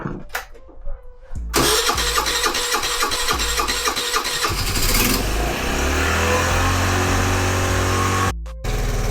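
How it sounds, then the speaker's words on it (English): A Piaggio Vespa with a 4-valve motor swapped in place of its original 2-valve unit cranks, fires and settles into a steady, loud idle close by, running continuously for several seconds before cutting briefly near the end. "The 4-valve motor on the Piaggio Vespa that originally came 2-valve. And she's running good."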